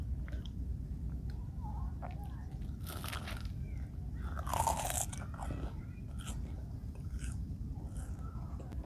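Someone eats a crunchy, slightly sweet fried snack, biting and chewing close to the microphone in quiet, intermittent crunches over a faint background hiss.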